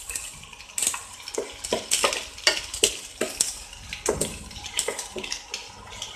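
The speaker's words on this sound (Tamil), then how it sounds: "வெங்காயத்தை இதோட சேர்த்து வதக்கி விடுங்க." Sliced onions sauté with ginger and garlic in a pan, giving a soft sizzle under repeated scraping stir strokes and the odd utensil clink, close and fairly quiet.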